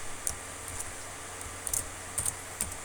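Python code being typed on a computer keyboard: a handful of sparse, faint key clicks spaced irregularly over a quiet background, with no talking.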